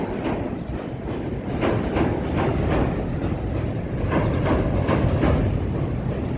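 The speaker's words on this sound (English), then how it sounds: "here comes the Green Line train heading over the Lake Street Bridge here" A Chicago Green Line elevated train rumbles steadily past nearby over the Lake Street Bridge, with rhythmic clickety-clack of wheels over rail joints and a heavy, continuous roar throughout.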